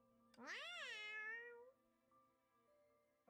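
A single cat meows once, long and rising then falling, clear and close against a quiet background.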